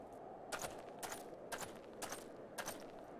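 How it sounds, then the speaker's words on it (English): Cannons fire in a video game battle, five heavy booms spaced about half a second apart over a steady low rumble, fairly distant and dull. "I thought I heard a terrible din of cannons being fired"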